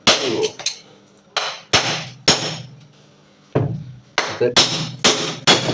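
Ceiling fan parts are struck to loosen their nuts: sharp, loud metallic hammer blows land one at a time and then in a quicker cluster near the end, with quiet gaps between them.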